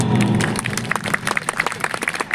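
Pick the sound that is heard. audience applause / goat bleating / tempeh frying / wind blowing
audience applause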